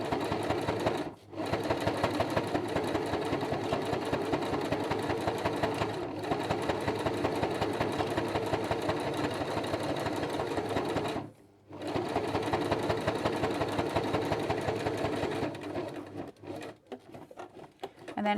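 A sewing machine stitches a leather clutch handle through single and triple layers in long, steady rapid runs, pausing briefly twice to pivot, then slowing to short stop-start bursts at the end.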